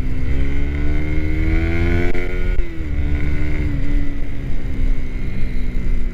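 Loud Raider 150 Fi motorcycle engine with a stage 1 port held at high revs, droning steadily with slight dips as it bounces against the limiter, no talking.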